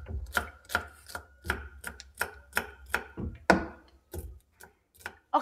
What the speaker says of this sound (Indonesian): Ini saya iris tipis-tipis